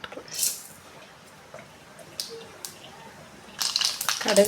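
Mustard seeds splutter in hot oil in a kadai for brinjal thokku, scattered sharp pops and sizzling crackles that grow denser toward the end.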